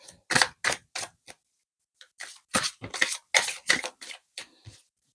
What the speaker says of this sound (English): We keep shuffling.